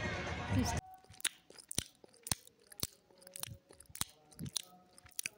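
Crisp potato chips crunched and chewed close to the mouth, a rhythm of sharp bites and crackles, each loud snap separated by short quiet gaps after an opening burst of noise.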